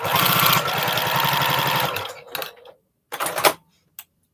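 A sewing machine stitches tiny fabric pieces one by one, running as a fast, even, rhythmic clatter for about two seconds before slowing and stopping, followed by a few short bursts and clicks.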